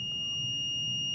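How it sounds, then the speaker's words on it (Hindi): A multimeter's continuity buzzer sounds a steady, unbroken high-pitched tone while probing a shorted part during repair of an NX Audio MT 1601 amplifier, holding for the whole stretch over a faint low hum. "ये दे रहा है बजर हमारा, और आप मीटर को देखें एक बार तो पूरी तरीके से वो शॉर्ट ही बताएगा बजर में।"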